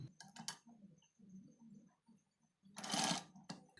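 A sewing machine stitches a border design on a long blouse sleeve in short, quiet bursts of rapid needle clatter separated by brief pauses, ending with one longer, louder run.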